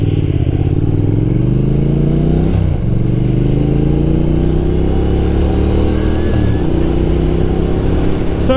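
A group of Honda motorcycles passes nearby, their engines droning and rising in pitch together as they accelerate, loud and continuous, with repeated gear shifts and no speech.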